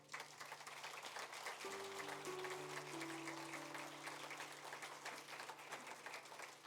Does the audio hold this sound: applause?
yes